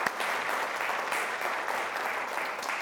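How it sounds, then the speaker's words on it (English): Quiz show teams applauding, a dense, even round of clapping from a sizeable crowd that holds steady throughout at a fairly loud level. "Give yourselves a round of applause."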